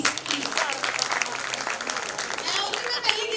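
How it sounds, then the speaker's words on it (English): Audience applause at a school annual function, a dense steady wash of clapping from a crowd lasting throughout, with scattered voices mixed in. "Please clap for sir."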